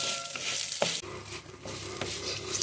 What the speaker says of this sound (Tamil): என்கிட்ட கருப்பு உளுந்து இருக்கிறதால அது கொஞ்சம் வதக்கிடுங்க. ஒரு 5 நிமிஷம் வதங்கட்டும்